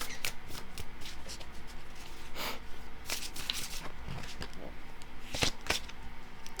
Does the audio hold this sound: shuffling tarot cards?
yes